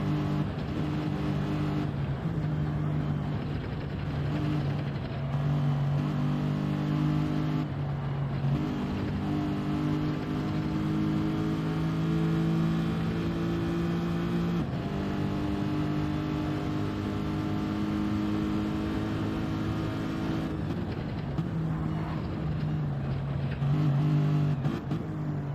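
GTE race cars in a Le Mans racing game hold high, steady engine notes at full speed through the Porsche Curves, with pitch shifting slightly through gear changes and corners. The engines run loud and continuous the whole time.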